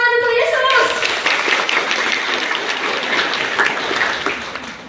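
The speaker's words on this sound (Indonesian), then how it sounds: "Give a clap offering to Jesus." Church congregation at an ecumenical revival service clapping for Jesus, broadband applause under a harmonic voice at the start, then continuous dense clapping filling the room throughout.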